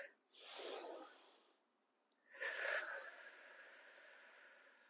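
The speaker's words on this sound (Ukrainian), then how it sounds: "Робимо глибокий вдих." Deep breaths during a kundalini yoga session: a long, airy inhale followed after a pause by a longer, rushing exhale, close to the microphone and with no talking.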